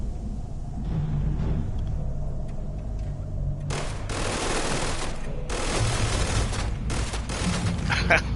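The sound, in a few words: gunfire in the video game Starfield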